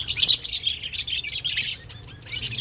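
A caged pet bird, a female close to laying eggs, chirps in bright, rapid bursts of high tweets close to the microphone, with a brief pause before a final flurry.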